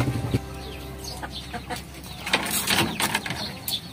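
Aseel chickens and chicks cluck and peep in a backyard coop as it is opened, with short scattered calls mixed with clattering and rattling of the enclosure, and a voice talking briefly.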